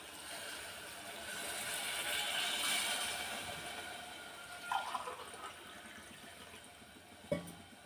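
Water is poured into a cooking pot while preparing a chickpea and tomato rice dish. A soft, rising splash swells and then fades, followed by a couple of faint clinks, all fairly quiet with no voices.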